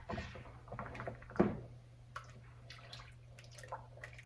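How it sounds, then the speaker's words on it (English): Sorghum pudding liquid coming to a boil in a pot: faint soft bubbling and ticking pops over a low steady hum, with light scattered kitchen clatter. "You can hear it starting to boil."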